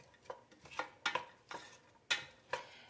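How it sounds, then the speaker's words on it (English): Utensil stirring chopped onions as they sauté in a pot for clam chowder, with a string of distinct scraping, clinking strokes at an uneven pace over a faint sizzle, close and fairly loud. "we want to just get that sauteed, the onions for just a little bit"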